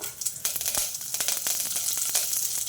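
Crushed garlic and curry leaves sizzle and crackle in hot oil for bottle gourd sambar, a faint, steady frying hiss dotted with sharp pops.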